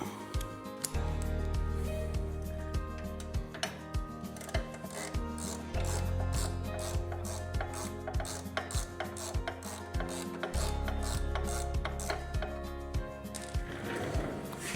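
Ratchet wrench with a T45 Torx bit backing out motorcycle crash bar bolts, a fast steady run of close clicking that pauses briefly every few seconds between strokes.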